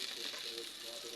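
Onions go into a hot pan for chicken rolls and fry with a soft, brief, even sizzle.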